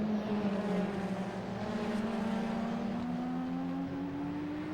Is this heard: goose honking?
no